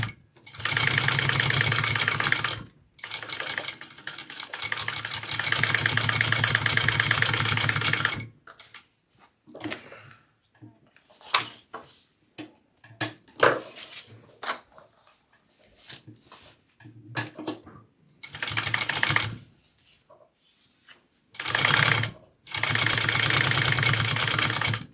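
Sewing machine basting along the edges of wallet gussets, running in long steady bursts broken by short pauses and brief stop-start stitching, close and loud with no talk.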